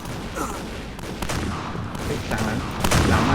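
Rapid gunfire in the shooter video game Point Blank, a dense run of loud sharp shots in quick bursts, close and continuous, with no pause.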